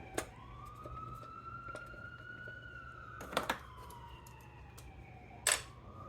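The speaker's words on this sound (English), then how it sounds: "if you don't hear the ambulance, it's literally right around the corner." A distant wailing siren rises and falls slowly, sweeping past, with a few sharp clicks and bumps close by.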